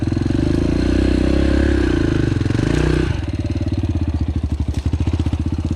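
A Yamaha TTR 125L dirt bike engine idles loudly and close, a steady throbbing rumble that shifts to a choppier, lower pulse partway through.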